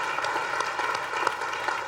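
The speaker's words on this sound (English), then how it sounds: "You can clap for that too" An audience at a charity event claps steadily through a brief stretch, with even, continuous applause at moderate distance and no other sound standing out.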